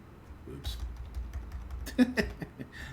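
Brief run of clicky keystrokes on a computer keyboard, close and fairly quiet, with a few sharper taps near the end and faint talk underneath.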